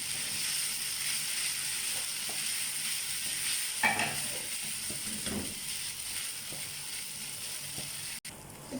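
Noodles fry in a pan over a slow flame, a soft, steady sizzle under scraping and rattling as they are spread and pressed, with a few sharper clinks near the middle.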